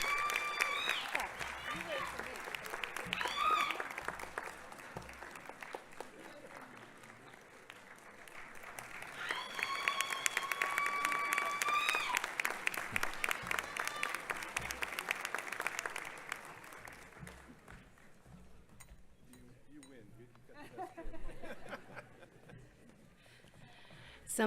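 Audience applause and cheering at a university commencement hooding ceremony, broad clapping swelling in two waves with whoops and shouts on top, then thinning to scattered claps near the end.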